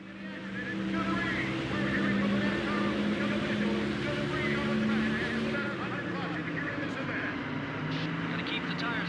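Race car engines roar continuously in the NASCAR Thunder 2004 video game, a loud sustained drone of several cars heading into the corners, holding steady with slight pitch shifts throughout.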